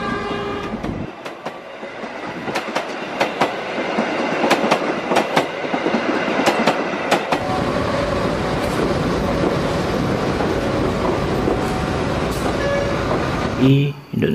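A train rumbles past close by with rhythmic clickety-clack from the wheels and a horn sounding, loud and sustained throughout.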